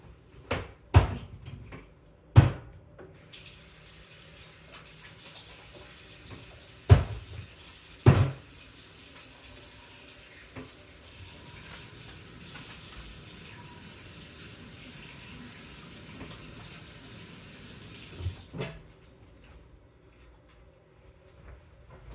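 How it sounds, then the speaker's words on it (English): A kitchen tap runs steadily while hands are washed beneath it, a close, continuous splashing hiss broken by a few sharp clunks and knocks at the start. "All right, wash my hands."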